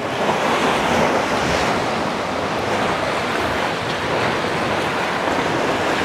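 Sea waves wash and break against the rocky shore of Comino, Malta, a dense, continuous roar of surf with some wind buffeting the microphone, loud and near, with no voices.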